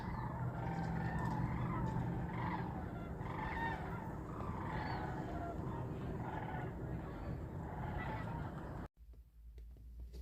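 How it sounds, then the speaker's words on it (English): Loud, repeated Canada goose honks overlap in a busy flock chorus, rhythmic calls rising and falling, before cutting off abruptly near the end, on a trail at Red Top Mountain State Park, Georgia. "I think that's Canada geese."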